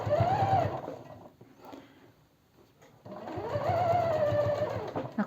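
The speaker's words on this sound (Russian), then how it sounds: "И вот я сейчас строчу, попадаю прямо вот сюда, в строчку" A sewing machine runs stitches along the seam of a denim fitness sports bag, sounding in two steady runs separated by a short quiet pause.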